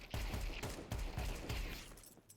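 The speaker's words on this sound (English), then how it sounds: "You're in a standard warm-up where you shoot the bots." Rapid gunfire from shooting bots on a Counter-Strike warm-up workshop map, a dense run of close, loud shots in quick bursts, playing alone without talk.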